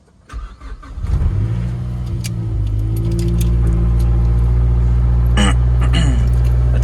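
A Mazdaspeed3 engine cranks and fires up for the first time after a motor mount install, settling into a loud, steady idle that holds close to the microphone, with a brief jingle of keys at the start.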